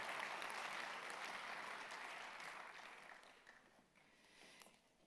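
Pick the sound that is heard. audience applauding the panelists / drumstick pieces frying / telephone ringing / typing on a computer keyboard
audience applauding the panelists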